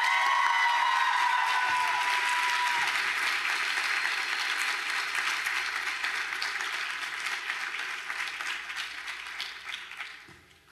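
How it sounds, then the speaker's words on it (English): Audience applause with some cheering at a graduation ceremony, a sustained broad clatter of many hands that gradually thins and dies out toward the end. "Let's give a hand of applause."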